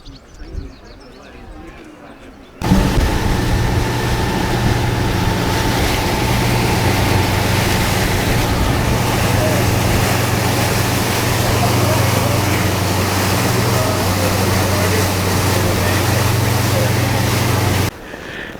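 A steady tour boat engine drones loudly for about fifteen seconds after a quieter start, crossing a lake in Grand Teton National Park, Wyoming, with water and wind noise mixed in, then cuts off abruptly.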